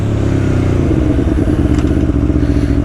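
An Aprilia Tuono V4 1100 Factory motorcycle runs loud and close, its engine giving a dense, continuous rumble with a rapid pulsing beat and occasional clattering edges.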